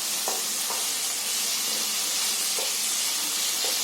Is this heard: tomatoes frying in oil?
yes